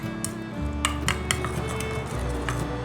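Seasonings such as vegetarian oyster sauce, soy sauce, sugar and rose salt stirred together in a small bowl, a spoon clinking sharply against the sides in several quick, close taps.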